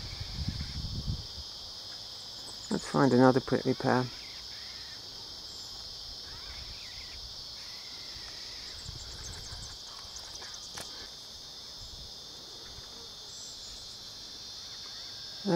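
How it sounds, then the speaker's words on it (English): Cicadas buzz in a constant high-pitched drone throughout, steady and moderately distant, with someone briefly talking and a bird cawing. "That's the sound of cicadas."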